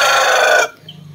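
Chickens in a backyard coop on a province farm, a loud close burst of clucking and crowing that stops abruptly, leaving quiet background.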